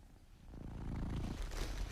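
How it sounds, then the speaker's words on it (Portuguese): A cat purrs softly and close, a low rhythmic rumble that swells slightly over a couple of seconds, with no other sounds. "E há o ronronar."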